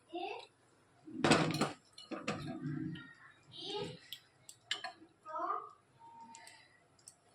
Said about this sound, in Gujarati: એક તપેલીમાં થોડું આપણે તેલ મૂકીશું